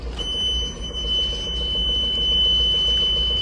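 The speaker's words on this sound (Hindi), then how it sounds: "इरिटेटिंग एक्चुअली हो जाता है रिवर्स पार्किंग सेंसर्स का। आपको साउंड सुनाता हूँ।" A Mahindra Bolero City Pick-Up's reverse parking sensor sounds a steady high-pitched electronic tone above the low hum of the idling engine, continuous and unbroken throughout, with no talking.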